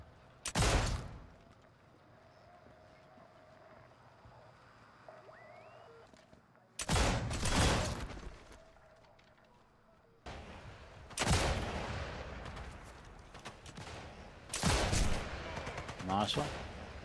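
Bursts of gunfire in a military video game, with four loud, separated volleys of rapid shots over a quieter background.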